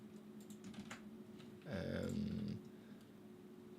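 Typing on a computer keyboard at a streaming desk, a short burst of close, dense key clatter lasting under a second, set against a steady background hum.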